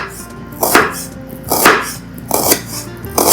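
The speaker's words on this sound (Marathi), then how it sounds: "अशा प्रकारे आपले कांदे छान बारीक बारीक चिरून झालेले आहेत" Onions being finely chopped with a knife on a board, loud close rhythmic chops in a steady series of about four strokes, with no talking.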